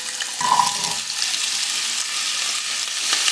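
Carrots drop into a hot pan with a soft clatter, then a steady, fairly quiet sizzle carries on close by with no talking.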